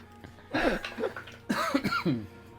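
Two close, harsh coughs a second apart during a tabletop role-playing game session, each a short burst with some throaty rasp, against a quiet room.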